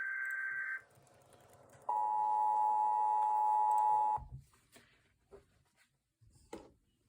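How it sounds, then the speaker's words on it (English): A tornado warning alert in a drill: steady electronic tones, a high tone for about a second followed by a longer lower sustained tone of two seconds, then quiet with faint clicks and thumps. "This is what the tornado warning sounds like."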